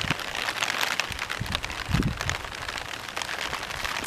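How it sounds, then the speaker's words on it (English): Rain falls outdoors in a garden where seeds were planted a week earlier, a steady dense hiss of drops with a few soft low patters, continuous and close throughout. "Today it rains."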